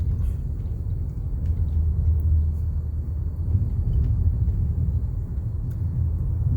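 Car rolling along a rural Virginia road through fall foliage, a steady low rumble of tires and engine from inside the cabin, even and moderate with no voices.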